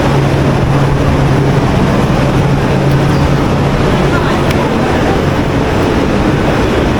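Continuous loud rumble of a train at a railway station in Italy with a steady low hum, dense and unbroken throughout, faint clanks and murmuring in the background.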